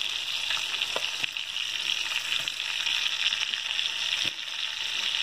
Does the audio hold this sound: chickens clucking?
no